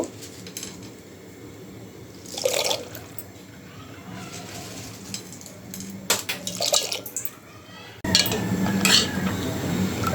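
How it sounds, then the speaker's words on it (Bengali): Dry pasta tipped into a pot of boiling water on a home stove: pot clanks and clinks, a rush of sliding pieces, then louder bubbling water. "তো জলটা উতরে নিয়ে আসা বুঝতে এখন আমি পাস্তাগুলো দিয়ে দিব"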